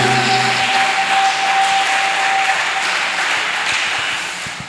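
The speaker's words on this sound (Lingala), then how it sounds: "on applaudit pour la parole du Seigneur" A church congregation at a Saturday service applauds together in a dense, loud burst of clapping that slowly thins and fades over a few seconds, with a sustained tone lingering briefly underneath.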